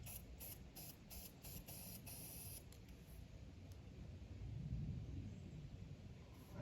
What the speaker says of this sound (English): I just sprayed it on the ground